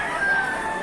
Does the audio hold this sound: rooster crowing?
yes